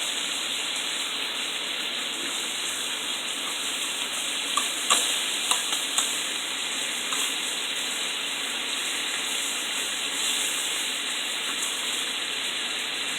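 Bacon strips sizzle and crackle in a pan, a steady bright hiss with occasional scraping and clinks of a utensil partway through, close and continuous with no talking.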